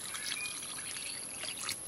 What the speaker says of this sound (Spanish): Lavaré la Jamaica, le colocaré agua hasta que se cubra